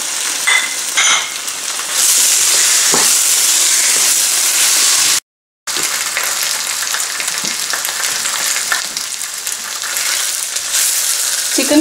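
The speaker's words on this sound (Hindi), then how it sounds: "चिकन फ्राई हो चुका है," Chicken frying in a pan for chili chicken, a steady loud sizzle with crackling that continues throughout, broken once by a brief silence, with no voices.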